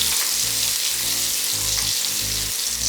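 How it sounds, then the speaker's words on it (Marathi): Garlic and asafoetida fry in hot oil for a cucumber pithale, giving a steady, close, loud sizzle with a continuous crackling hiss throughout and no voices. "लसूण परतून झाली की हिंग घालून घेऊया. हिंग देखील व्यवस्थित परतूया."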